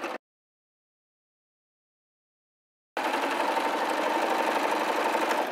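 A sewing machine stitches the seam of a fabric glasses case: a brief burst, then a long pause of silence, then steady close running with a fine rapid stitch rhythm.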